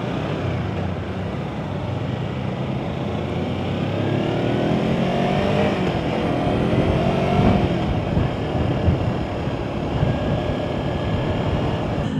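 A Kawasaki Versys-X 250 Tourer motorcycle on the road, its engine a continuous, fairly loud drone that rises in pitch as it accelerates, with no voices present.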